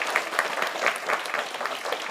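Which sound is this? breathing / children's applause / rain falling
children's applause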